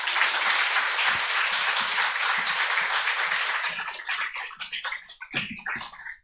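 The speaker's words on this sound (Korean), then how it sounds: "박수로 목사님을 모시겠습니다" A church congregation applauds warmly at a Sunday worship service to welcome the pastor, steady dense clapping that thins and fades toward the end.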